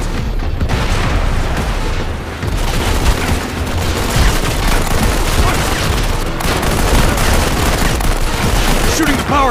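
Dense gunfire and booming blasts from a Modern Combat 5 mission, with power cells being shot; loud, continuous bursts of shooting fill the whole stretch, with voices faintly mixed in.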